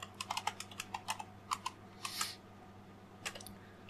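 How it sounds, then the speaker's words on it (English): A password is being typed on a computer keyboard, with a quick run of light, close key clicks, a brief pause, then a few more taps over low background hum. "I got to type it again."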